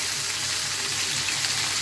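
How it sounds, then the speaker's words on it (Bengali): Fish fries in a pan with a dense, even hiss of hot oil, continuous and steady throughout the short stretch, close by with no voices. "এটা হচ্ছে একটু ভেজে নেব"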